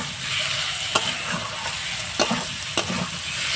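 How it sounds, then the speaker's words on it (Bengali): Potatoes fried and stirred with garlic paste in a pan give off a loud, continuous sizzle, with a few sharp scrapes of a spatula against the metal. "এটা দিয়ে আমি আলুটা একটু কষিয়ে নিচ্ছি"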